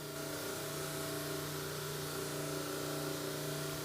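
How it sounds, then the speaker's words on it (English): An OB7 cobot presses the threads of a part against a spinning deburring wheel, giving a steady motorized whir with tonal hum, continuous and fairly close, with no talking. "it's going to again spin into that wheel as it hits each thread, each top of each thread"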